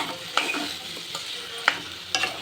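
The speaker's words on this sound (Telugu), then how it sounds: "ఇప్పుడైతే ఆలు వేసుకొని బాగా కలిపేసుకోవాలి" Potatoes being stirred into a frying pan for aloo curry, with a soft continuous sizzle and a few sharp spoon scrapes against the pan, close and clear with no talking.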